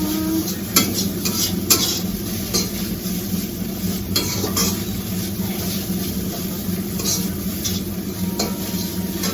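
Maggi noodles frying in a pan, an even sizzle throughout with regular stirring scrapes and occasional metallic taps of the spatula, near and steady.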